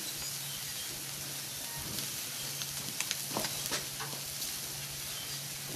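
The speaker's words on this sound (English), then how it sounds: "We'll sear these" Chicken wings and ribs searing on a barbecue, a steady broad sizzle with a low hum beneath and a few sharper crackles and pops in the middle, fairly close and moderate in level, no talking.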